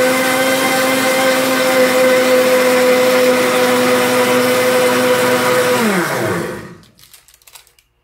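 A blender whirs loudly and steadily as it mixes powdered milk into homemade yogurt, then the motor winds down and stops, leaving a few faint clicks.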